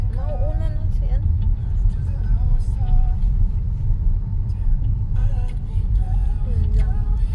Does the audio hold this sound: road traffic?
yes